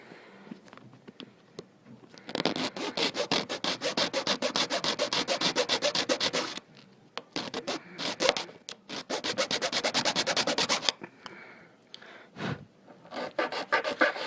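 Rapid rhythmic rasping of a file scraping back and forth on a metal gear of an RC winch in long bursts, broken by short pauses, close and loud.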